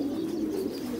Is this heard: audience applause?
no